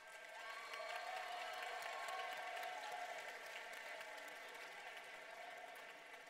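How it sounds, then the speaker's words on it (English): A large crowd applauds the 2015 Dancing with the Officers winners Maddie and Isaiah at the Ohio DECA Career Development Conference grand awards session, sustained clapping with faint cheers from a distance, rising then fading slightly. "Let's give a big round of applause."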